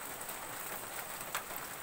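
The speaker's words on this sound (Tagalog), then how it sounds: "Nadiligan din ng ulan sa wakas." Steady rain patters on crops behind a kitchen, a dense even hiss of falling drops with no voices.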